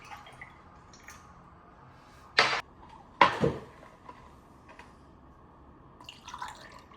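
Food-scrap wastewater, thick with sunken rice and black pepper, is poured onto filter media in a homemade MBBR wastewater setup, giving two short, splashy pours over a quiet background.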